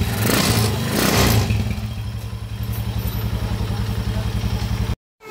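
A 200cc converted Euro 150 motorcycle engine idling steadily after carburetor tuning, with a rapid, even clattering pulse up close. A voice talks over the start, and the sound cuts out abruptly near the end.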